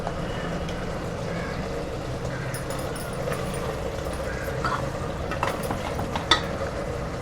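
Tomatoes, chilli and garam masala sautéing in oil give a low, steady sizzle with soft stirring and scraping, a few sharper clinks near the end.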